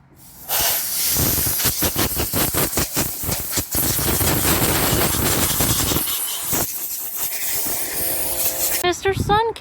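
Compressed air hisses steadily across F-150 truck trim being blown off before paint, a loud continuous rush with short bursts and pauses, a brief break near the end.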